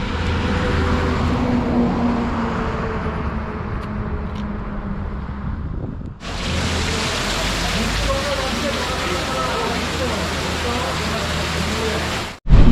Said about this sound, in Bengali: এই মুহূর্তে প্রচণ্ড বাজ পড়ছে আর প্রচণ্ড জোর বৃষ্টি হচ্ছে।